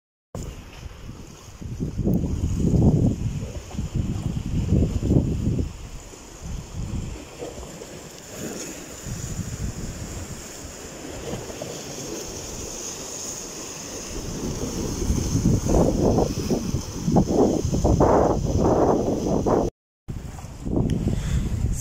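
Sea waves in Istanbul, Turkey surge and wash in rolling bursts under steady wind buffeting the microphone, with a brief dropout near the end.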